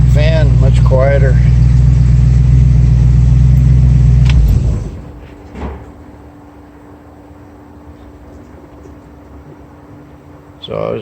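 A 1965 Ford Mustang V8 with an aluminium radiator and no cooling fan idles loudly and steadily for about four seconds, then cuts off, leaving near silence with faint background noise and brief traces of a voice.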